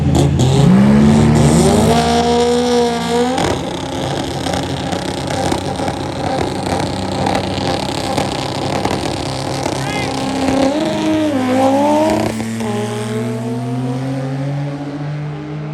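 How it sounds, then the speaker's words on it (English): Drag racing cars at a PSCA qualifying event, a DSM in the far lane and a rear-wheel-drive Honda Civic with an extra engine poking through the hood and a new air intake, rev and roar loudly with rising and falling engine tones under steady announcer talk. "We got a super rad DSM in the far lane, and we got Josh Scott in that rear-wheel drive Civic"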